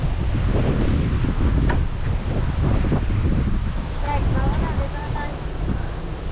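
Strong wind and rain roar outdoors, a loud, unbroken buffeting rush that swells and eases in gusts across the whole stretch, with people talking briefly underneath.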